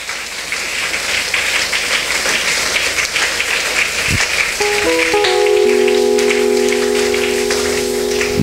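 A church congregation claps loudly in sustained, dense applause that runs the full length, while sustained organ or keyboard tones enter partway through and hold underneath.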